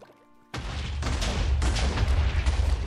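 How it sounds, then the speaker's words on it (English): Explosions in the Minecraft modpack Enigmatica 6, a sudden loud blast bursting in after a short quiet stretch, then sustained rumbling booms with repeated hits, close and heavy with no talk over them. "Explosions."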